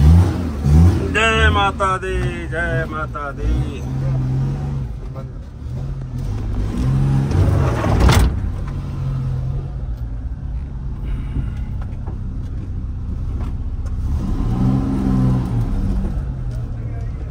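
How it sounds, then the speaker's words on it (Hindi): A car pulls away from the Hotel Mount View International, its engine rumbling and rising before fading as it leaves, with people talking and a chant of devotion over it. "ये हम लोग को ड्राप करने के लिए गाड़ी जा रही है।"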